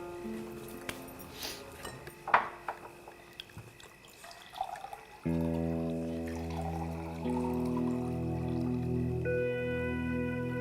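Water is poured for drinking, starting with a few light drips and clinks, then a steady trickling pour that keeps going to the end of the clip, close and fairly quiet.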